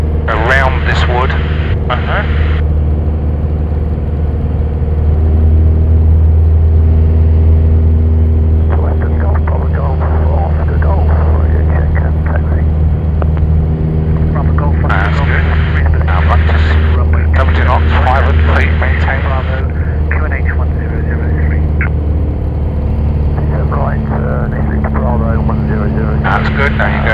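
A light aircraft's engine drones steadily and loudly throughout a low-flying precautionary circuit, heard from inside the cockpit, while an instructor talks over the constant hum with occasional radio-style speech.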